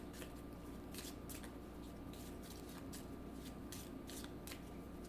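Tarot cards are shuffled in a quick run of soft, repeated riffling bursts, close and faint over a low steady hum, with no voices.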